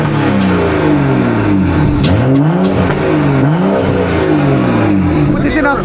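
Car engine with an aftermarket exhaust revved repeatedly in sport mode, loud close bursts of rising and falling throttle blips with a deep aggressive exhaust note.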